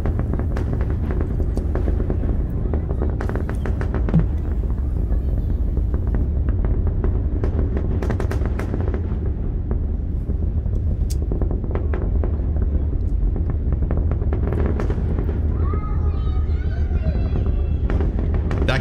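A deep, continuous roaring rumble of a SpaceX Starship rocket launch, distant, broad and sustained, with crackling bursts and faint voices toward the end.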